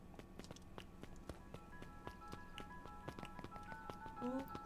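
Quick little footsteps of a small character in the video game Beacon Pines, a rapid, even tippy-tap patter of soft ticks running throughout, with faint game music tones drifting in near the end.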